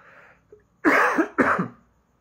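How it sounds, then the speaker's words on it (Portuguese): Two sharp, loud coughs in quick succession, close to the microphone, with a short breathy sound just before. "Estou com a tosse esses dias que tá difícil de superar."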